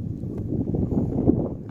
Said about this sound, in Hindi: तेज़ हवा भी शुरू हो गई है